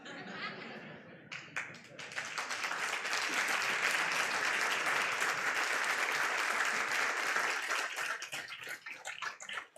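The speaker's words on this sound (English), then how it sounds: "once you see these people standing up and they give you a big clap" A conference audience breaks into applause after a brief murmur and laughter, the clapping swelling to a loud, sustained roar before thinning near the end.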